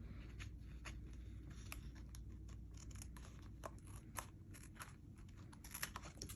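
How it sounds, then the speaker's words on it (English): Small scissors snip through excess washi tape trimmed on a planner page, giving a run of quick, light, close cutting clicks over a steady low background hum, with no talking. "Okay, so then we'll just go ahead and cut the excess. Again, this is why these little scissors come in handy."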